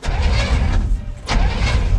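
A freshly installed 350 V8 in a 1962 classic truck cranks over, a loud rough low-end churning that dips briefly mid-way then resumes, close and steady with no talking.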